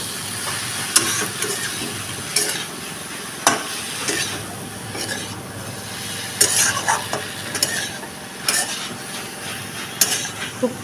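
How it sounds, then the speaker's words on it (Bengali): Chili powder frying with prawns and pointed gourd in a pan, a steady sizzle broken by repeated scraping stirs and occasional knocks of a spoon against metal, close and alone. "লঙ্কার গুঁড়ো হালকা একটুখানি কষিয়ে নেব"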